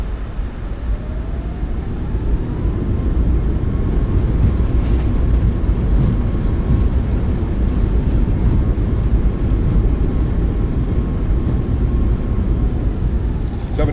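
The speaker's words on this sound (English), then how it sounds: "Reversers are out. Decelerating." A Boeing 737 MAX 8 airliner in a flight simulator rolls out after landing with thrust reversers deployed, a loud, continuous low roar of engines and rumble that holds steady throughout with a faint tone sweeping upward.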